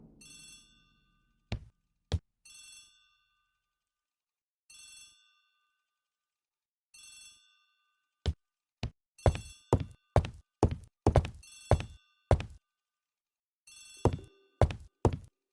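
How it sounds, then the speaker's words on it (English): A telephone bell rings in a hall in a bursts-and-pauses pattern, clear and fairly close, while sharp knocks and thuds come in an irregular run, with no speech. "The telephone in the hall is ringing."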